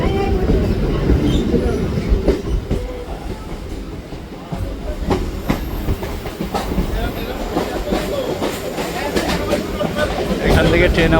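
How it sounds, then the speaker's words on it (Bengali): Kolkata local train running along the rails on the Majherhat to Barasat line, turning right, with a steady rumbling roar of wheels and carriages, faint rhythmic clatter and occasional squeals, while a person talks over it. "এখান থেকে ট্রেন আমাদের ডান দিকে ঘুরে যাচ্ছে"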